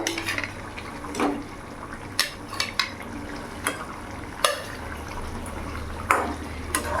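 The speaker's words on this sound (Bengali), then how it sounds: "ফুটে গেছে ঝোলটা। এবার আমি মাছগুলো ছেড়ে দেবো।" Rohu fish pieces go one by one into boiling curry gravy, each drop a soft splash and clatter against the pot, spaced irregularly over a low bubbling simmer, close and moderately loud.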